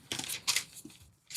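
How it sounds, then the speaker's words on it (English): A sheet of paper being folded into a pizza shape, giving soft crinkling, rustling and creasing bursts in an uneven rhythm, quiet and close with no talk. "So he's folding the paper right now. You can hear it."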